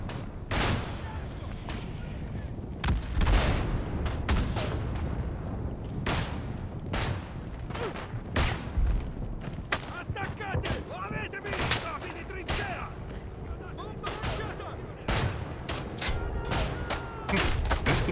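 Gunfire in the World War I shooter Isonzo, with dense rolling volleys of rifle and machine-gun shots, distant booms and repeated loud close cracks throughout a continuous battle.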